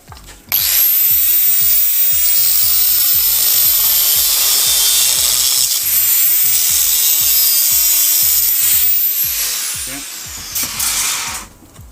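A power tool cuts a section off a metal welding sculpture, giving a loud, close, continuous high-pitched whine with a fast rhythmic chatter underneath. It runs for about ten seconds before winding down.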